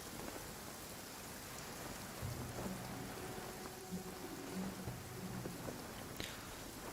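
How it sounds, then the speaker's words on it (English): Heavy in-game rain pours down in Genshin Impact as a dense, even hiss that fills the whole scene, with a few low rumbling tones rising briefly underneath. "Quite a downpour."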